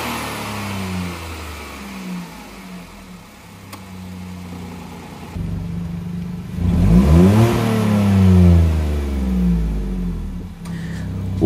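Lancia Y hybrid 2020 manual car running while gears are shifted, engine hum dipping and then rising into a revving whine with sweeping tones, growing louder in the second half, no talk.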